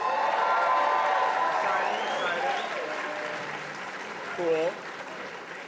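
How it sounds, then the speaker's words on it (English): A crowd applauding and cheering at a Texas Democratic U.S. Senate rally for nominee James Talarico, a loud sustained wash of clapping that gradually tapers, with a voice briefly speaking over it near the end. "give him a round of applause"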